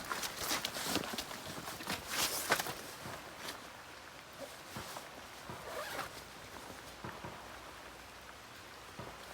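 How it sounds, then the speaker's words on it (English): Several quick rasping zipper pulls on a Hazard 4 Plan-B bag, close and fairly quiet, clustered in the first few seconds and followed by softer rustling and handling; no talking. "I just zipped it up."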